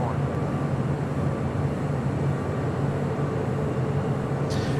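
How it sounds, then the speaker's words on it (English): United Airlines Boeing 757-300 departing LAX for Denver gives a steady, loud broadband jet roar with a constant low hum. It holds unchanged from start to finish, with a brief burst of higher hiss near the end. "Next departure is United Airlines flight 1374 heading to Denver, Colorado."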